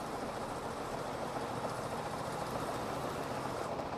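A Suzuki GSX-8S motorcycle engine lugs steadily in sixth gear at about 45 km/h, a faint, even drone mixed with wind rush and no break or stutter.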